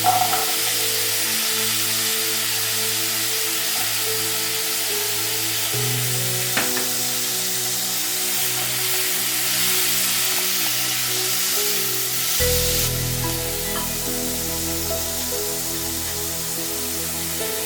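Chopped capsicum frying in a pan for egg macaroni gives a steady sizzle that runs throughout, changing tone around the sixth and thirteenth seconds as the pan is stirred or more food is added. No one speaks.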